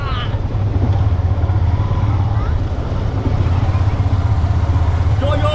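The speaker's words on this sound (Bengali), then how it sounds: "তো এখন আমরা বাইক নিয়ে যাচ্ছি সবাই ঘুরতে" A rented motorbike carrying riders around Saint Martin's Island, Bangladesh, its engine droning steadily and loud with wind rush throughout, while people talk over it.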